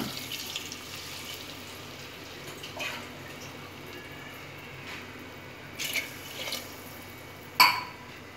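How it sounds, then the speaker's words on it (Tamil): Water pours briefly into a cooking pot of fish curry with a soft splash and a few trickles and drips, quiet against a steady background hiss. "ரெண்டு டம்ளர் நம்ம தண்ணி ஊற்றணும் இதில்"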